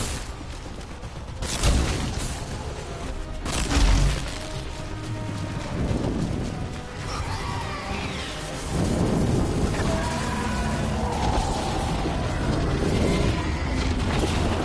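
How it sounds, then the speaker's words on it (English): Steady heavy rain hisses throughout while deep rumbles of thunder roll in twice, loud and close, in the video game Dragon Age: The Veilguard, with no talking. "Oh great, it's raining."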